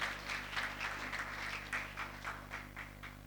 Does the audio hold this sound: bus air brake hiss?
no